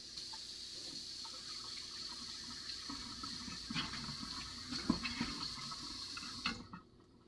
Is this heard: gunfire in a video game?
no